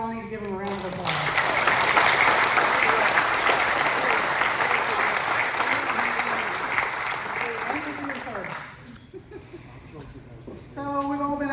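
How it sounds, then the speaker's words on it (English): An audience at a summer antique tractor show applauds standing military veterans, a sustained round of clapping for several seconds that fades out, with a voice speaking before and after. "I think we all need to give them a round of applause"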